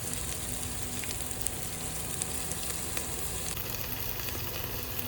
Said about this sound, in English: Just lightly sauteing it and waiting for the onions to turn golden brown